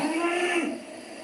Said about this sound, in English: That's a cow giving birth